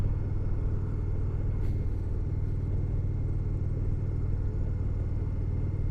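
A big Indian Roadmaster Dark Horse cruiser motorcycle being ridden through turns, its engine a steady low rumble mixed with road and wind noise, constant and close with no change in pace.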